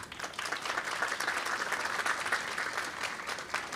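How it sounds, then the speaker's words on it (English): Audience applause at a Japanese traditional crafts (Kōgei) presentation event, steady dense clapping sustained throughout at moderate level with no voices over it. "please give them a warm round of applause"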